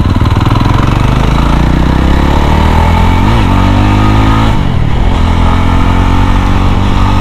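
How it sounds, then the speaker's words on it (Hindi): A Yezdi Roadster motorcycle engine runs loud and close, with a steady throbbing rumble throughout and a brief rise and dip in revs midway. "काफ़ी लाउड है ये मोटरसाइकिल्स, इनफैक्ट ये वाली भी काफ़ी लाउड लग रही है मुझे"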